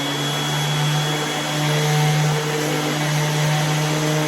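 A Milwaukee random orbital sander runs with a Hoover vacuum attached, giving a steady close whine and droning suction hum without pause during car body repair sanding.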